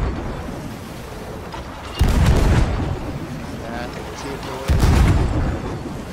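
Cannon fire aimed at a brig during a naval fight in Sea of Thieves, with two loud booming shots about three seconds apart over a steady background of sea and ship noise.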